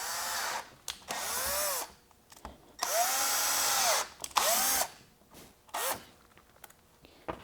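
Power drill driving screws with a Fellow driver bit, several short whining bursts with rising and falling pitch, separated by pauses, close and loud with no talking.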